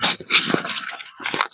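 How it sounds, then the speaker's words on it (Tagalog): Dog sounds at a rural Filipino lot, with a few short sharp bursts and a whimpering quality, close and fairly loud over outdoor background noise. "May aso."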